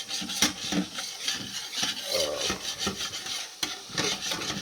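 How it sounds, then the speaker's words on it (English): Harsh rasping scrapes of a utensil dragging burnt-on bits off a pot bottom while cooking pot roast, repeated strokes up close, gritty and grating, with no voices. "scrape that old bottom and get that old burn on stuff off"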